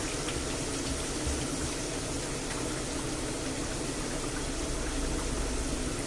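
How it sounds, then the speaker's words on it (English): Potatoes frying in a hot pan, a dense, steady hiss and sizzle that carries on without a break, close and fairly loud. "we'll fry them until they're golden brown"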